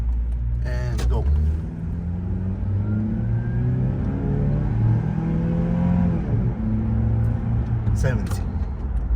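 A Toyota Prado J120 with a 2.7 VVTi engine pulls away at full throttle, a steady mid-pitched engine note rising under load with faint whir and muffled cabin noise throughout.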